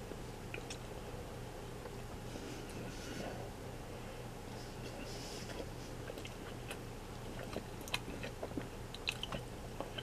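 Close, quiet chewing of salmon with miso glaze and blueberries, with soft irregular crunches and wet mouth clicks running steadily throughout, no talking.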